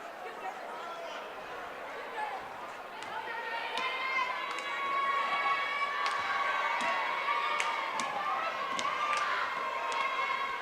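Crowd at a high school basketball game in the Buchtel gym, a dense roar of cheering and shouting voices that swells and stays loud, with sharp sneaker squeaks and thumps scattered through it.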